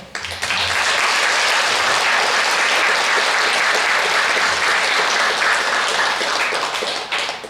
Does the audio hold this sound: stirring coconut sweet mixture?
no